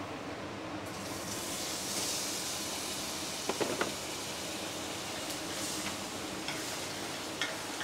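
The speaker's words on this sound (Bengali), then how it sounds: "কড়াইয়ের মধ্যে এখন তেল মানে দিয়ে দিয়েছে, এবার একটুখানি বাটার দিয়ে দিচ্ছি" Butter melts into hot oil in a kadai with a soft, continuous sizzle and hiss, broken by a few light metallic clinks of stirring near the middle.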